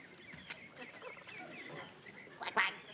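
A duck quacks in a few short nasal bursts, the loudest pair landing near the end over a busy, moderately loud background of other fowl-like calls.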